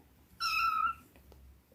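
A kitten from a foster litter of nine lets out one loud, drawn-out meow at close range, followed by quieter shuffling.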